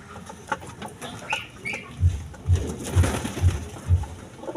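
Racing pigeons coo nearby in a loft, five low throbbing coos evenly spaced in the second half, with softer fluttering and rustling around them.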